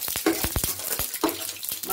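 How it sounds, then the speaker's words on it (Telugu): Fenugreek, mustard and cumin seeds crackling in hot oil, quick sharp pops and spits scattered over a faint sizzle, heard close with no speech. "ఆయిల్ వేడెక్కిందండి ఇప్పుడు పోపు దినుసులు వేసుకుందాము మెంతులు ఆవాలు జీలకర్ర వేసుకుందామండి"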